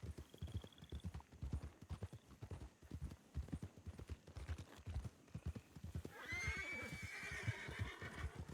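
Rapid hooves clip-clop steadily in a galloping rhythm, then a horse lets out a loud, drawn-out neigh near the end.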